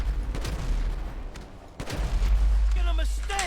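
Bursts of AK rifle fire in Grand Theft Auto 5, with sharp shots near the start and again midway over a heavy low rumble of in-game noise, while voices talk over the action.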